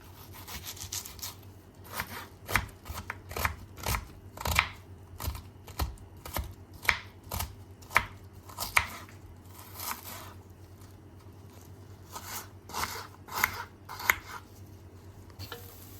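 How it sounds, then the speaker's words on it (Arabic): A knife chops through a single onion on a cutting board for a Sudanese lentil salad, with a steady run of crisp, close knocks and short pauses between strokes, and no talking. "تاني نقوم نقطع لنا بصلاية واحدة كده شنو عشان هنسوي سلطة"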